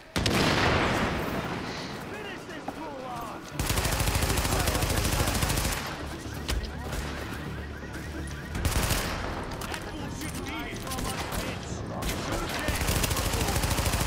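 Heavy gunfire from Tom Clancy's The Division fills the mix with dense, continuous bursts of automatic shots and booming explosions, loud and sustained throughout with game effects layered in.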